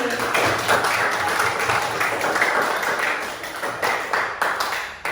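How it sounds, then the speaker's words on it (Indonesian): Classroom of students applauding themselves, a dense, steady wash of many hands clapping close by for about five seconds, with faint voices mixed in. "Silakan tepuk tangan untuk diri kita sendiri."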